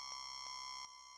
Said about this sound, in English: It's just a really high sawtooth wave that's being downsampled by this distortion.